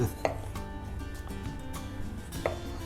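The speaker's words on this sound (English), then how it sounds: "Hearing you just cut through and hearing the apples just slice is so cool." A knife cuts through apples on a board, giving a few sharp taps and crunches spread across a quiet kitchen background.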